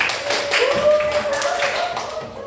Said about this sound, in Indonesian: tepuk tangan untuk Delia.